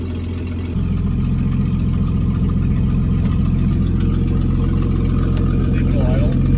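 A 1950 Chrysler Traveler's flathead engine idles with a steady low rumble that steps up in loudness just after starting and then holds an even, continuous drone.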